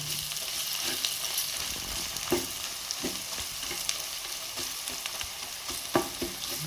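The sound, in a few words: onions frying for chicken curry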